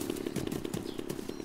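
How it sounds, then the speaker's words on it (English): A chainsaw in the DayZ video game revs in a steady, loud, buzzing drone with rhythmic pulses and clattering bursts, filling the whole stretch with no pause. "That guy with the chainsaw's back."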